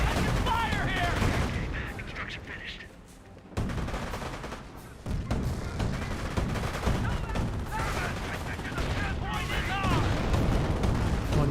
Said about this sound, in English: Engineers taking some fire there for the mortar.